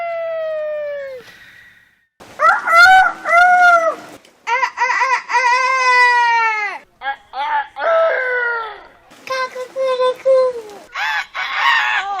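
A voice imitates a rooster crowing in a run of loud, drawn-out, pitch-sliding calls with brief pauses between them, performed alone and close up.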